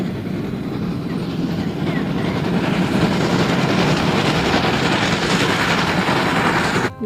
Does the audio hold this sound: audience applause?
no